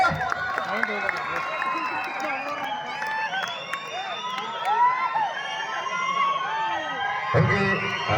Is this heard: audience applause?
yes